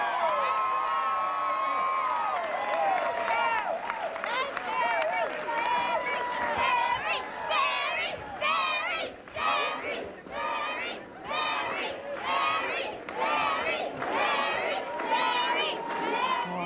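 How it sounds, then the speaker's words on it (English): An excited crowd cheers and shouts at Mary Landrieu's campaign headquarters on election night, a loud continuous roar of many voices with whoops and chant-like bursts rising and falling throughout. "an excited crowd at the Mary Landrieu campaign headquarters"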